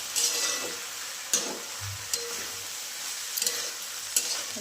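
A pan of vegetables frying on a home stove sizzles steadily after salt is added, while a spoon stirs and scrapes through it in several distinct strokes.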